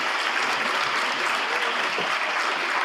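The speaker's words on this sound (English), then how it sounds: "Please give her another round of applause." Steady, dense applause from a crowd at a women's keynote event, continuous and fairly loud throughout with no break.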